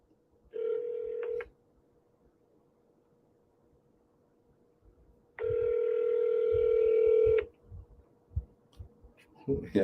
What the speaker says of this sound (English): If they don't answer, you don't hang up, you double dial.